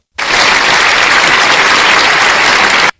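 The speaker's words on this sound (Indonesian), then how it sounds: "Tepuk tangan buat Rasulullah." Loud, dense audience applause from a crowd at a religious talk, starting abruptly, holding steady and strong for about three seconds, then cutting off cleanly.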